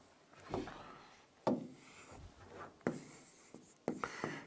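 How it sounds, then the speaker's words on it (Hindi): Chalk or marker scratches and taps across a classroom board in short, irregular strokes, close and fairly quiet, as a math question is written. "अब एक क्वेश्चन लिखता हूं"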